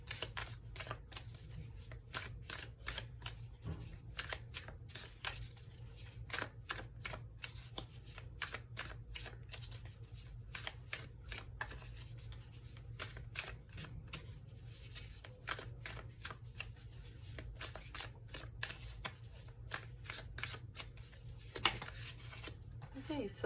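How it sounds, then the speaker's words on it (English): A deck of tarot cards is shuffled by hand in a quiet room, giving rapid bursts of crisp riffling flutter and soft slaps that come in uneven clusters, fairly close and moderately quiet. "I'm gonna shuffle a little bit more, see if any pop out, and now we'll go ahead and pull some."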